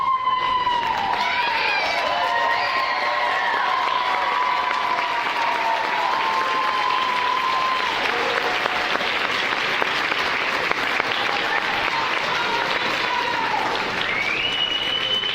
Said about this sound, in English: will you guys please rise and give your graduates a round of applause?